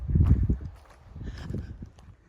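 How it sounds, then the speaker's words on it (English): Heavy hooves of horses thud and clop close by in an uneven walking rhythm, with faint rustling in the background. "Yeah, there's horses."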